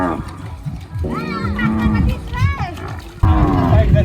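Buffalo on a remote riverside char in Bangladesh, with cattle grazing nearby, call out in drawn, wavering lowing moos heard over steady nearby speech and outdoor background noise.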